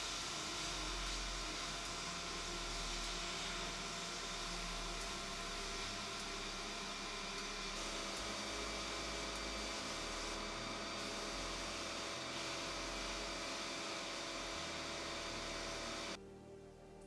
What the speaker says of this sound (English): just gotta blast the calipers now.